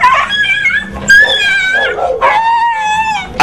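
Stray dogs caught by dog catchers in Novaliches yelp, whine and squeal in distress, loud and continuous, with some human voices mixed in.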